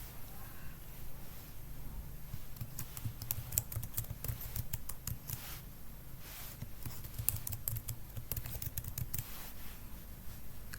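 Someone types a password on a computer keyboard with quick, irregular bursts of close key clicks over a low background hum, with no talking.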